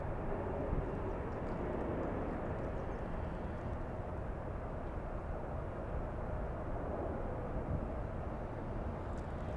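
A Virgin Atlantic 787 Dreamliner taxis at LAX, a steady low jet engine rumble and hiss heard from a distance, constant and even throughout.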